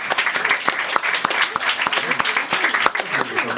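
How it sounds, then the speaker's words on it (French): An audience claps steadily throughout, a dense patter of hands from a live stage show crowd, fairly close and unbroken, with no voices rising above it. "On l'applaudit quand même bien fort."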